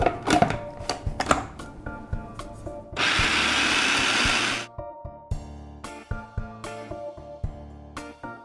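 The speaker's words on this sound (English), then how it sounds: "And then we'll puree that for about 10 seconds." Blender pureeing boiled chickpeas for hummus, a loud dense whir that runs for about one and a half seconds, set between clattering knocks and taps of kitchen utensils.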